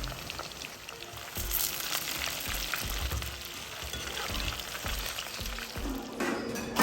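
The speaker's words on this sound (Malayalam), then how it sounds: "ഇതാ ചിക്കനൊക്കെ നന്നായിട്ട് ഫ്രൈ ആയി വരുന്നുണ്ട്." Chicken frying in a pan sizzles and crackles steadily up close, with occasional stirring scrapes and no talking.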